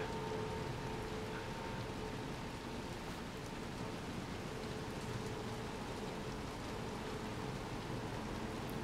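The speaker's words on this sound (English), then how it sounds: "that's actually mad impressive considering all this rain too" Steady, dense rain pours down in the dark world of the video game Little Nightmares 2, a constant hiss that continues without pause throughout.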